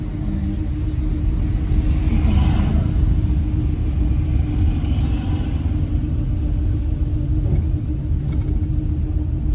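A car engine drones with a steady, loud low rumble while a learner accelerates during a driving lesson in India, with no talking over it.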